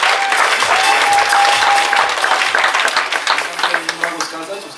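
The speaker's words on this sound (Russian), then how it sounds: "Ну что, мы поддержим Диану аплодисментами?" Audience at a Miss Bikini contest applauds contestant Diana, a dense crowd of clapping loud and near, with a host's voice talking briefly over it before the clapping thins toward the end.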